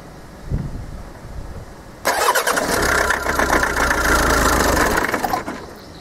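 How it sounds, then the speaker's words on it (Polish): A common rail diesel engine with a suspected faulty sensor cranks briefly, then catches and runs at a steady idle for a few seconds before cutting off, heard close and alone. "Idziemy zrobić próbę, czy nam silnik da zgodę"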